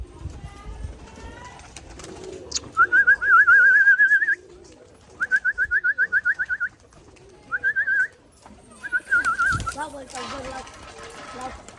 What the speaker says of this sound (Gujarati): ઓલા હરિયા ઓલા ના ઉડ્યો ભાઈ કબૂતરી